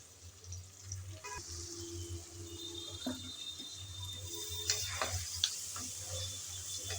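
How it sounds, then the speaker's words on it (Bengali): Chopped onion fries in hot reused fish-frying oil, giving a faint, continuous sizzle over a low hum, with occasional soft ticks and clinks of a utensil. "তেল গরম হয়ে আসার পর দিয়ে দিচ্ছি কিছুটা পেঁয়াজ"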